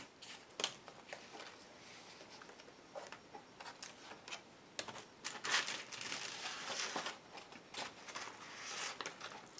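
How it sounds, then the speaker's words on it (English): X-Acto knife slicing a window out of a paper altered-book page, a run of faint, irregular scratchy cuts and crinkles, close and quiet, with no talking. "just cut around that with my X-Acto"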